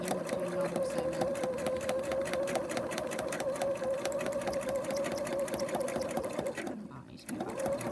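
A sewing machine runs continuously while doing free-motion embroidery stitching, with a fast, even needle rhythm and a steady motor hum that drops out briefly near the end before resuming.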